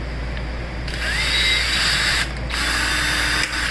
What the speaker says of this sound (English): just throw it in a cheap drill, put it on the high torque setting